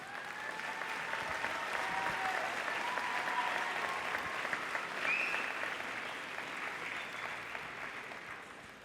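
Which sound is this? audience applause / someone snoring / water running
audience applause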